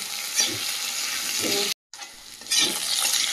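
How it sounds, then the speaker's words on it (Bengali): Potatoes frying in oil in a pan, a steady close sizzle with soft stirring scrapes, briefly cut off to silence midway before resuming louder. "আলুটা বেশ কিছুক্ষণ ভেজে নিয়েছি, আলুটা বেশ লাল লাল হয়ে গেছে।"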